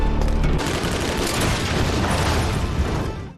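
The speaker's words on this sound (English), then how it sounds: "Smoke ambushes them from the trees, gunning them down with ease. He even uses a grenade." Dense, loud gunfire with a heavy grenade blast in the film Sinners, a sustained barrage of shots and booming impacts that fills the whole moment and fades out at the end.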